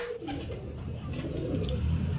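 Pigeon cooing from a running flying pigeon among stock birds, a low, steady murmur of repeated coos held close and continuous with no talk.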